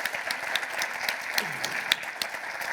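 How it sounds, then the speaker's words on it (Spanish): Scattered applause from a small conference audience honouring a doctor acting as moderator at an orthobiologics session; individual claps stand out in a loose, moderate patter, with a faint voice underneath. "Un aplauso para la doctora Gallardo, por favor"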